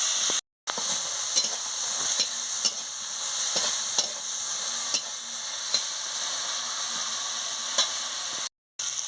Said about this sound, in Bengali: জিরের গুঁড়ো, লঙ্কার গুঁড়ো আর হলুদের গুঁড়ো একসঙ্গে আমি দিয়ে দিচ্ছি। দিয়ে পরিমাণ মতন একটু জল দিয়ে দিচ্ছি। দিয়ে মশলাটাকে ভালো করে কষিয়ে নিচ্ছি।